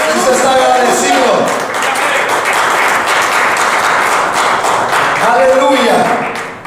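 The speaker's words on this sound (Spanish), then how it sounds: "Ese aplauso al Señor" A church congregation applauds the Lord in sustained, loud, even clapping that fills the room for several seconds, with faint voices and cheers mixed beneath it.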